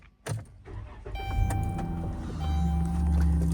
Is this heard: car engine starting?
yes